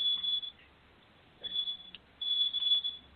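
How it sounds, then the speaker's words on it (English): An old-school alarm clock goes off in a room, sounding as a high electronic beeping in repeated bursts with short gaps between them. No one talks over it. "that's my alarm because I had another"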